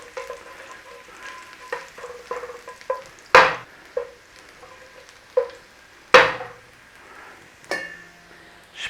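Brussels sprouts fry in a pan with garlic and pancetta, a soft steady sizzle broken by sharp scraping and clattering stirs, some loud and close.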